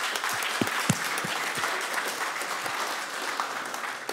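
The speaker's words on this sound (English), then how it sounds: "big round of applause to all the speakers" Steady audience applause at an artificial intelligence meetup, a fairly soft, continuous wash of clapping from a room of attendees with a few sharper individual claps near the start.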